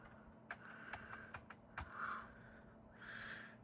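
Scattered clicks of keys being pressed on a vintage NeXT ADB keyboard from a starting point kit, irregular and close but quiet, with a faint electronic tone and brief hiss-like bursts between presses.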